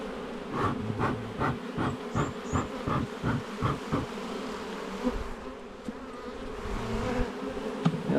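Honey bees from an agitated, feisty hive drone in a loud, continuous buzz at close range during an inspection. Pulsing swells of wingbeat noise come and go, with no talking.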